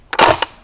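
A single sharp crack from an Umarex Legends M1A1 airgun fires close by, loud and abrupt with a brief ring-off and no other sound.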